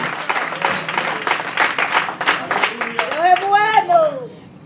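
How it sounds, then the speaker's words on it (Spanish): A church congregation at a children's service claps in a brisk, uneven burst, and a voice rises over the applause toward the end. "Dele un aplauso al Señor en esta tarde."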